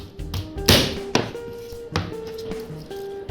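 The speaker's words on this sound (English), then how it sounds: "Easiest way to get into your garlic is we're just going to put the blade of our knife," A kitchen knife's flat blade slams down onto a garlic clove on a cutting board, giving a sharp close thump followed by a few lighter taps and knocks.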